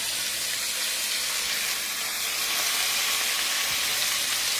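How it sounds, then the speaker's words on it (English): A pot of water boiling on a home kitchen stove, a steady hissing, bubbling wash that holds at an even level throughout with no talk over it. "That water's boiling"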